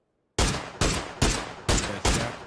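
Five sharp gunshots from PUBG ring out at a steady, evenly spaced rhythm, each loud crack followed by a short decaying tail, with no voices over them.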